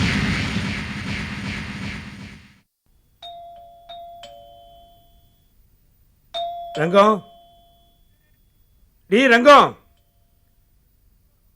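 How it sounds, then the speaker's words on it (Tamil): A front-door calling bell rings in a home: a buzzy tone fades out, then short electronic chimes and two bursts of warbling bell tones follow, separated by silence. "வாசல்ல யாரோ காலிங் பெல் அடிச்சுட்டு இருக்கா"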